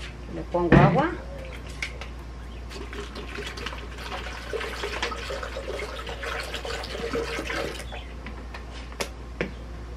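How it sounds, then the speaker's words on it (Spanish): Water poured into a pitcher while making coconut and walnut agua fresca, a soft continuous trickling and splashing after a brief clatter of ice, with a voice speaking over it. "Le pongo agua."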